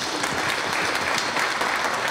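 Sustained applause from an audience at a ceremony marking the inauguration of a new chairman at a crime victims support center, steady and dense clapping throughout with no speech.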